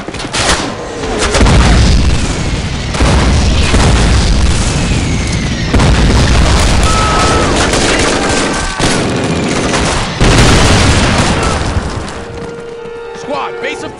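Near-constant gunfire and heavy explosions fill a World War II battle in Call of Duty Operation Market Garden. Machine-gun bursts and booming blasts stay loud and close, and a shouted voice cuts in over the din.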